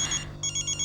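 A phone ringtone announces an incoming call from a scammer, a bright, pulsing electronic trill repeating quickly, close and clear with no talk over it.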